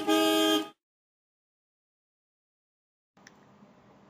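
A taxi's car horn gives one loud, steady honk lasting just over half a second. Silence follows, then faint low street noise.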